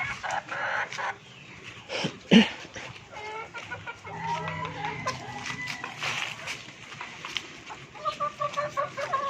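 Four-month-old chickens cluck and chatter close by in a run of irregular calls, with one sharper squawk early on and softer murmuring clucks throughout.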